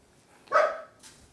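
A dog outside gives a single short bark, fairly faint and distant, in an otherwise quiet kitchen with no talking.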